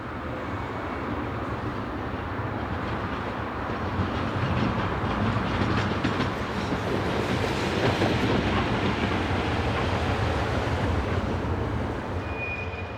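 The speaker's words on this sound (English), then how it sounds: "shunter 6005, belonging to container firm ACTS, is seen heading for the nearby Waalhaven South container terminal" Shunter locomotive 6005 of container firm ACTS rumbles steadily through a container rail yard near Waalhaven South, with a continuous low diesel drone and rolling wheel noise heard from nearby.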